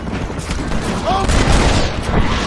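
Rapid gunfire in the Red Dead Redemption video game, a dense fusillade of shots rattling continuously over game music and ambience with a voice calling out.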